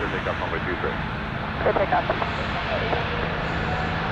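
An airplane takes off at Toronto Pearson airport, its engines a steady broadband roar throughout, with voices talking over it.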